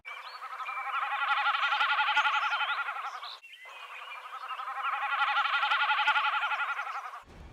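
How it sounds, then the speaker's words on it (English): Common snipe drumming or winnowing, its vibrating tail feathers giving a goat-like bleating tremolo in two long pulsing bursts, loud and close, separated by a short gap. "the snipe vibrates its tail feathers to produce a sound known as drumming or winnowing, which sounds a lot like the bleating of a goat"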